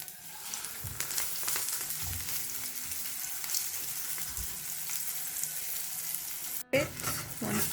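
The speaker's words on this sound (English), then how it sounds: "It's the first one going in the pan." An onion and egg paratha frying in oil in a hot pan, giving a steady close sizzle with light stirring scrapes, broken by a brief pause near the end.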